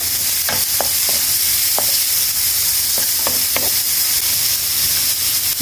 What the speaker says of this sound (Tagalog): Lagay na natin yung chopped onion.